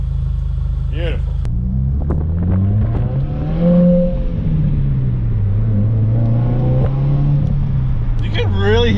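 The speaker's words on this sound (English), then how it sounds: "You can really hear that turbo" 2020 Subaru WRX with an axle-back exhaust: a deep, rumbling engine note rising and falling with revs and turbo whine, heard from inside the car while people talk.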